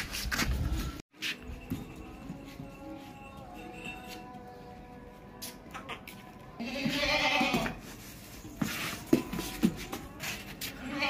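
Bleats from a Qurbani goat, a well-raised two-tooth buck, come in a few short bursts, the loudest near the middle, over shuffling and handling noise with a voice talking at times.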